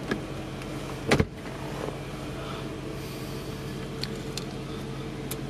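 A quiet electric sunroof motor hums steadily inside a 2004 Audi A8 Quattro, with a sharp click or thump near the start and faint mechanical clicks later.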